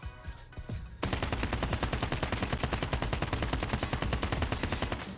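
Sustained automatic fire from an AK rifle in Call of Duty Mobile, a loud rapid burst of shots that starts abruptly after a brief quiet moment and continues steadily to the end.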